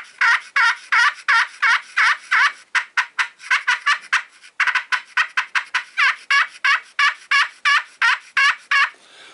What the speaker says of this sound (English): If you want to deaden the call, lay it flat in your hand.